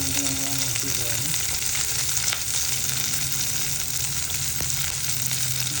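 Ginger and garlic sizzle in hot coconut oil, a loud, dense frying crackle that fills the whole stretch, with a faint voice and some stirring noises near the start.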